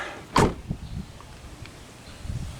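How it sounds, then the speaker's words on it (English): A single solid thump of a car door shutting, close by in a yard, followed by quiet outdoor ambience and a few faint shuffles. "we'll shut this car door"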